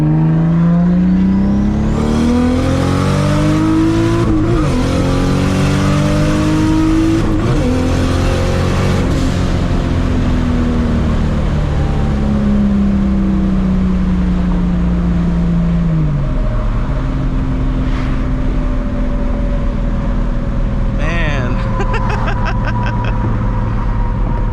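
A straight-piped Toyota Supra accelerates hard on boost, its loud exhaust rising and falling through several pulls with rising pitch sweeps, then settling into a steady drone near the listener.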